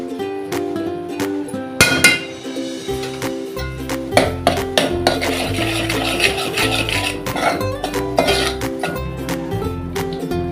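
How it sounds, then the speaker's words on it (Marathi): Pav bhaji vegetables sautéed in butter in a pan, with a spoon repeatedly scraping and clinking against the metal in an uneven rhythm over a soft sizzle, close up and mostly without talk. "हे पण चांगलं परतून घ्यायचं"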